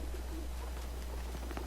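Pigeons or doves coo softly in Final Fantasy IX, a faint, gentle murmur sitting over a steady low hum that runs throughout.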